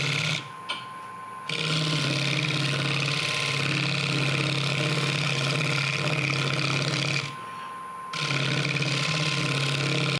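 A woodturning lathe cutting fine shavings from a hollow wood form, a loud steady motor hum with a scraping cut that drops out twice briefly and then resumes.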